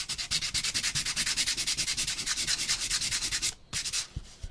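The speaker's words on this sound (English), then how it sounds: "I'm just going to start sanding a little bit of this till I see some wood" Sandpaper rubbing over painted wood for a patriotic craft project, a steady run of quick rhythmic back-and-forth scrubbing strokes, close and fairly loud, with a short pause before the strokes resume.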